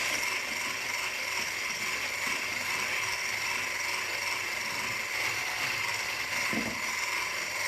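A kitchen machine used for making nut butter and seed flour runs steadily and loudly throughout, a dense continuous grinding whir with a ratcheting rattle and no talking.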